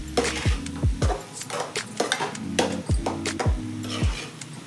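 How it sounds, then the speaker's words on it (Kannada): Egg and drumstick leaves frying in oil in a pan, stirred with a metal spatula that scrapes and clinks against the pan in a steady repeated rhythm over a soft sizzle, close up. "ಬೇಯ್ತಾ ಇರೋ ಸೌಂಡು ಹೋಗ್ಬೇಕು, ಅಲ್ಲಿ ತನಕ ಫ್ರೈ ಮಾಡ್ಕೋಬೇಕು"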